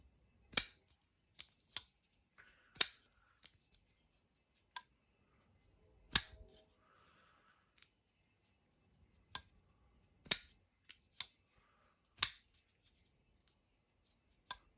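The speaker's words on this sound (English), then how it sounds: "it has a good opening deployment sound. Like it kind of just cracks out with a lock when it locks up" A Ferum Forge Stinger folding knife snaps open and locks up repeatedly. The sharp, crisp clicks come close and loud at irregular intervals with quiet gaps between them, and there is no talking.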